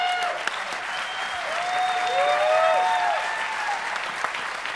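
A comedy show audience at DEF CON applauds, sustained clapping across the room with faint voices and a few louder claps standing out.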